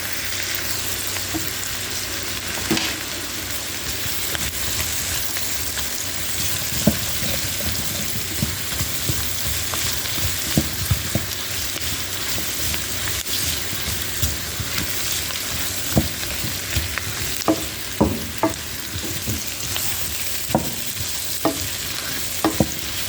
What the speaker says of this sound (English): add in a tablespoon of some tomato paste, and we're going to also cook that in our veggies as well